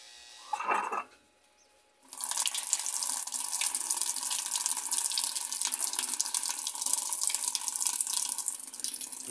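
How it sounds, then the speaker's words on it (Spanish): Water gushing into a Kenmore/Whirlpool washing machine, a steady hissing pour that starts abruptly after a brief clunk and runs on evenly, close and fairly quiet; no talking. "está cayendo el agua"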